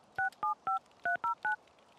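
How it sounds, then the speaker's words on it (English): Touch-tone telephone dialing in The Sims 3 video game: six short clean beeps at an even, quick pace, each a separate tone pair, with quiet background between. "she will now make another phone call"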